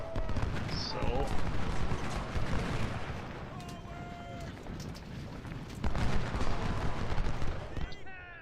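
Musket and artillery fire from a Civil War battle at Gaines' Mill in Ultimate General: Civil War, a dense continuous crackle of volleys and booms with a swell of louder firing toward the end, no talk.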